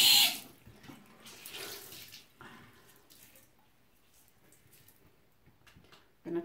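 Water runs from a tap in a short burst at the start, then drops to a faint trickle and drip before a brief splash returns at the end, quiet and close.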